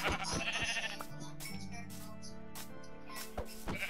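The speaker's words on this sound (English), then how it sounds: "I'm getting these sheep here." Sheep bleating in a survival video game, several wavering, drawn-out calls in a row, fairly close and alone with no talk over them.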